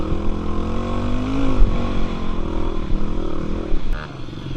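A Pony Jr 420 dirt bike pushed through a muddy trail ride, its engine droning loud and close with a rising, steady tone and brief clattering, while the rider talks over it.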